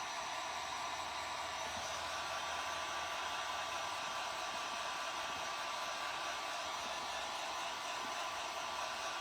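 A hair dryer on a low heat setting dries a craft project, giving a steady, close, unbroken airy whoosh that holds the same level from start to finish with no talking.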